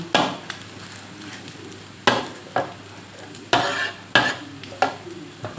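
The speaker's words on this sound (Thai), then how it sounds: "เอากลับด้านกลับด้านนะคะกลับด้าน ให้มันเหลืองเหลืองน่ากินเนาะ" A Thai omelette frying in hot oil and being flipped, a steady sizzle broken by several sharp scraping spatula strokes against the pan at uneven intervals, close and without talk.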